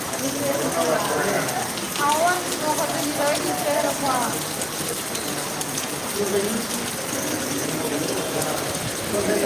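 Heavy evening rain in Betamcherla town hissing over a broad wash of noise, with a busy crowd of voices talking underneath throughout.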